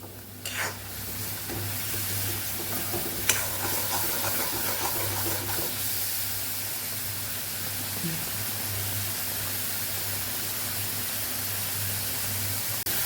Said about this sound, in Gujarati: હવે આપણે આને સતડાવા દઈશું